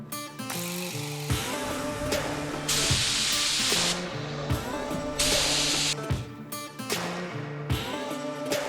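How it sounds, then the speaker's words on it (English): Spray gun painting a 1975 Corvette Stingray C3, loud hissing bursts of paint spray starting and stopping in short passes over a constant machine hum. "you're not kicking up dust when you're spraying the car."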